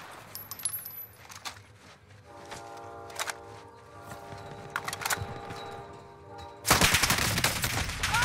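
A few sharp shots in a military shooter video game, mixed with metallic clinks and a brief mechanical hum, then a loud, dense burst of gunfire toward the end.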